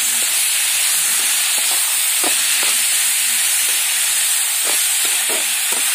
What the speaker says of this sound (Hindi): अब इसमें हम डालेंगे ये करमत्ता भाजी को। अब हम चम्मच चला लेते हैं।